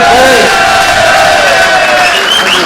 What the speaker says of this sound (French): je vous demande d'applaudir, mesdames, messieurs, Anthony Gay.